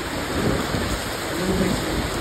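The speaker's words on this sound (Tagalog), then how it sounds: "lalakas na pag-ulan at baha" Dense, roaring downpour of typhoon rain with a low rumble of thunder underneath, loud and continuous throughout, during flooding in Lucena City, Philippines.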